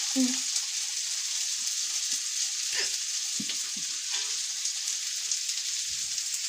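Onion, shallots, garlic, ginger, green chili and curry leaves sauté in hot oil with a steady, close sizzle and occasional spatula stirring scrapes throughout.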